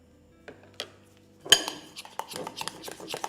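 A spoon clinks and scrapes against a bowl while colour is stirred into Swiss meringue buttercream, with a few isolated taps followed by a quick run of close, light clattering strokes.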